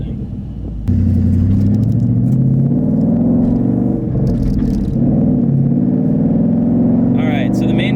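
A Ford Boss 302 Mustang's engine rumbles deep and steady while driving, a loud low drone inside the car with slight rev changes, as someone talks over it.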